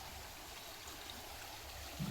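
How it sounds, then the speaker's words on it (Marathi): Stream water flows at a crab-hunting spot, a faint, even trickling rush that holds steady, with a brief low thump at the very end and no talk. "वाहता पाणी बघ ना काय"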